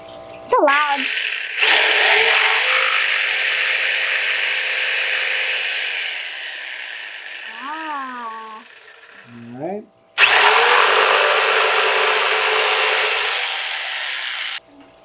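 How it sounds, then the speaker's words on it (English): Jigsaw cutting channels in wood for a DIY bat rack, loud and close: a long buzzing cut, a short pause, then a second sustained burst, with voices speaking briefly between the cuts. "We'll take our jigsaw. It's loud."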